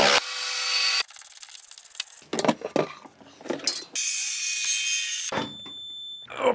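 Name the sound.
ratchet loosening body mount screws by hand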